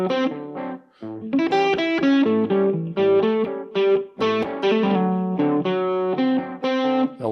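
Electric guitar with a distorted effects tone plays blues arpeggios over a backing track, the sustained notes moving steadily and loudly with no talking.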